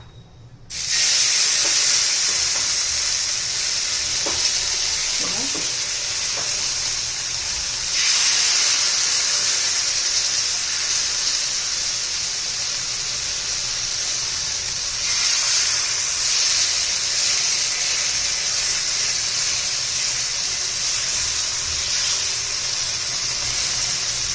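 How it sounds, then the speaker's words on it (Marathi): Spoonfuls of batter hiss and sizzle steadily on a hot oil-greased griddle, a loud continuous frying sound that swells again as more batter goes on, with no talking. "तवा गरम झालेला आहे मी सगळीकडे तेल लावून घेतलेलं आहे आता आपण एक एक चमचा असा घालून घ्यायचा आहे"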